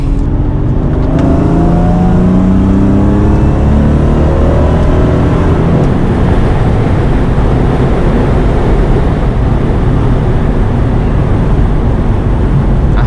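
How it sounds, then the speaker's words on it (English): A supercharged Mercedes-Benz W203 C32 AMG accelerates hard under load, its engine and supercharger whine loud and continuous from inside the car, rising in pitch as it pulls, with road and wind roar underneath. "the camera can pick up the supercharger noise"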